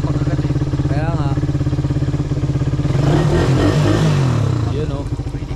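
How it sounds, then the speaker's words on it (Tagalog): A motorcycle engine warms up in the early morning, idling with a close, rhythmic putter before revving harder for a couple of seconds and settling back, with voices talking over it. "Papainit muna tayo ng makina kasi marala yung ano eh."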